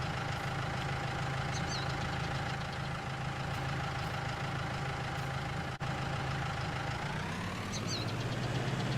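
A tractor engine in a farming simulator idles steadily and close, a continuous mid-to-low drone with a constant hum and faint rhythmic knock throughout.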